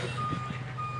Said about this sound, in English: It's the beeping.